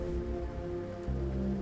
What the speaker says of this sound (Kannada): ಮಳೆ ಇನ್ನೂ ಜೋರಾಗಿ ಸುರಿಯುತ್ತಿತ್ತು